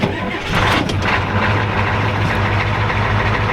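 A Ford F350 Power Stroke diesel farm truck catches and settles into a loud, steady idle close by, with an even low rumble and clatter that holds throughout.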